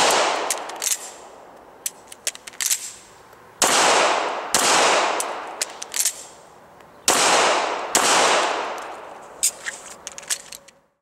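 A handgun fires on a shooting range after a type 1 malfunction is cleared with tap and rack, giving loud, sharp close reports in uneven clusters, each shot ringing out with a long reverberant tail, and some quieter clicks in between.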